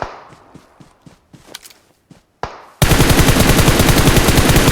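Sparse single gunshots crack in the PUBG Mobile match, then a loud, dense burst of continuous automatic fire from enemy players takes over for the final two seconds.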